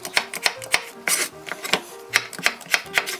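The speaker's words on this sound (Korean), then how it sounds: "오이 어슷 썰었는데요" A knife slicing a cucumber diagonally on a cutting board, producing a quick, even series of crisp, close chopping knocks.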